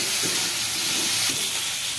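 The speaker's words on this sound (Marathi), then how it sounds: "चांगलं लाल कलर येतोपर्यंत मी परतून घेतलेल्या आहे भाज्या" Vegetables for a homemade pizza topping sizzle and hiss in a hot pan, a steady frying sound with faint scrapes of stirring and no voices.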